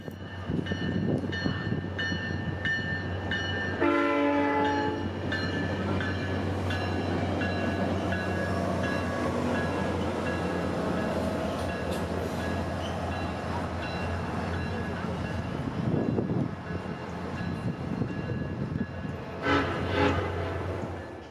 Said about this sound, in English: Sunrail train P324 departs north